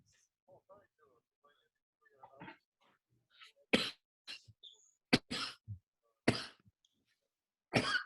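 A single sneeze bursts out during a phone call, followed by a few loud broadband bursts like coughs or throat clearing, with quieter talk and pauses around it.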